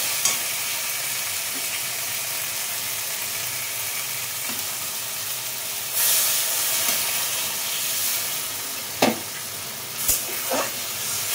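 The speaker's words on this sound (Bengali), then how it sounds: "এবার আমি একটু জল দিয়ে দেবো, বেশি জল দেবো না।" Mustard prawn masala (shorshe chingri) sizzles and hisses steadily in the pan after a little water is added, with a burst of steam around the middle and a few sharp stirring clinks later on.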